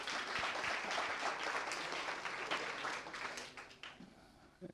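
An audience at a business talk on creativity claps for a speaker being introduced, a dense burst of applause that holds for about four seconds and then thins out quickly.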